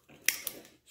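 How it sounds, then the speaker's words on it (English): A single crisp snip of cutters through a wire on a small light bulb socket, close and brief, with a faint follow-up click. "snip that off of there."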